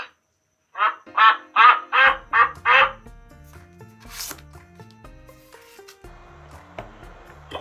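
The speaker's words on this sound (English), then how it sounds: "Duck." Six rapid, loud duck quacks from a talking flashcard toy in a row, then a faint electronic jingle playing quietly underneath.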